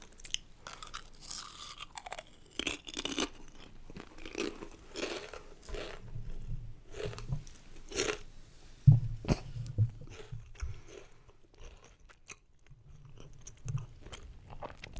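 Close, intimate chewing and crunching while eating a snack, crisp bites and wet mastication repeating irregularly throughout, with occasional louder crunches and soft low thumps, no speech.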